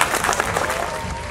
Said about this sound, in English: I think we'd all like to give them a special round of applause